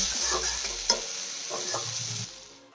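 Mustard leaf greens stir-fried in a pan over low heat: soft continuous sizzling with clear stirring scrapes and a sharp spatula knock, close up and without talk, fading near the end.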